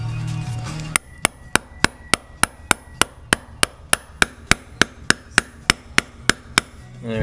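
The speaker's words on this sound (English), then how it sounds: "we're going to go ahead and pound this guy in" A hammer drives a bearing into a GoPed scooter's front wheel with about twenty sharp metallic strikes at an even, steady rhythm. The blows are close and clear, with no talking.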